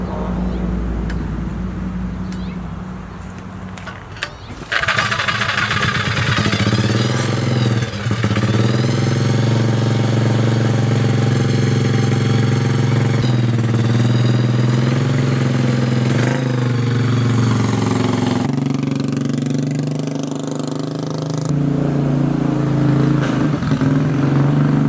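A vehicle engine run for the first time after sitting a year and a half: a quiet lead-in gives way to a sharp start, then a loud, steady idling drone with rises and falls in revs.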